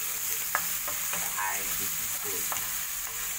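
Sandwich fillings frying in a greasy, oily pan, a steady broad sizzle with occasional stirring clinks and scrapes; a voice speaks briefly.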